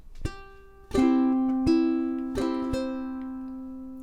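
A ukulele plays a single bar of the Irish folk tune St. Anne's Reel, slow and clear, with a few plucked notes and strums ringing out alone and sustaining between attacks.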